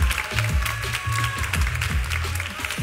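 A crowd at the Teen Universe 2021 pageant claps continuously, a dense burst of applause from many hands.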